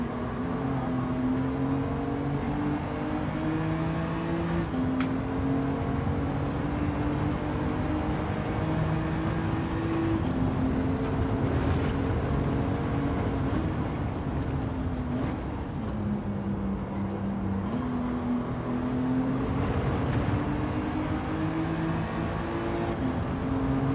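Race car engine in the racing game Gran Turismo 7, a steady droning tone that climbs in pitch and then drops back at each gear change, with several such rises over a continuous roar and no one speaking.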